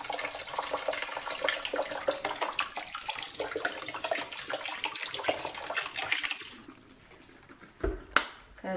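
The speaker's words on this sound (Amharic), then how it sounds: "ከዛ ቪኒገሩን ቢያንስ አንድ ኩባያ የሚሆን ጨምራለሁ።" A cup of vinegar poured into boiling water in a pot: a continuous close splashing pour for about seven seconds, then a quieter tail and a single sharp clank near the end.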